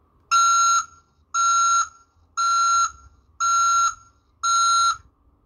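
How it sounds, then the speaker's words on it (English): A Hornit Mini bike horn plays its reversing-truck setting: five loud, even electronic beeps, each about half a second long, repeated at a steady one-second rhythm with short silent gaps between them. "Reversing truck."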